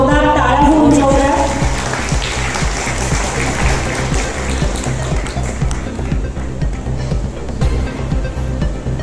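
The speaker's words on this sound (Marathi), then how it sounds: "जोरदार टाळ्या होऊन जाऊया" Loud audience applause breaks out after a brief voice at the start, then continues as dense, even clapping for several seconds.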